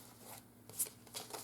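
Tarot cards riffled and shuffled in the hands, a brief soft flutter of papery slaps, quiet and close, with no voice.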